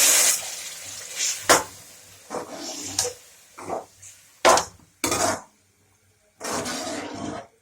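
Water poured into a pan of frying minced meat, bringing loud sizzling hisses and splashes in several bursts, broken by short clinks of a metal pan and spoon, close by in a home kitchen.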